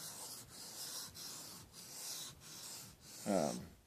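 A kitchen knife is sharpened on a waterstone in rhythmic back-and-forth strokes, about six soft abrasive swishes at a steady pace, close and fairly quiet, with a brief louder scrape at the end.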